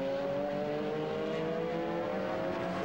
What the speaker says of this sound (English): Viper's got plenty of horsepower to squirt by where he can, but Garcia is in a battle for podium positi